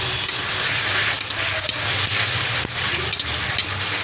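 A masala of ginger, garlic, turmeric and Kashmiri red chili powder sautés in a pan with a little water, a loud, steady sizzle broken by repeated scraping strokes of a stirring spoon, close and with no talk.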